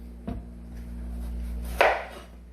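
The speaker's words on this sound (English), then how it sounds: "so I'm going to cut the ends." A knife slices through the end of a breadfruit with one sharp chop early on and a louder, crunchy cut near the end, both close and distinct over a low steady background hum.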